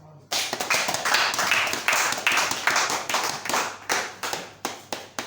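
A church congregation claps loudly in a dense burst of many hands, settling into rhythmic beats that gradually slow and thin out toward the end, close and strong.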